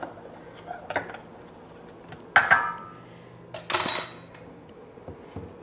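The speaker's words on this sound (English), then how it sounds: "I'll just kind of stir these together a bit." A utensil stirs a cheese mixture in a bowl, producing a few soft clinks and scrapes spaced irregularly, with two louder clatters against a quiet kitchen background.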